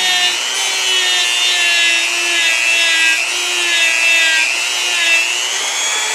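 A handheld rotary tool, used for cleaning an interior component, buzzes loud and close with a steady high-pitched whine whose pitch drifts slightly as it grinds against the part, running continuously without pause.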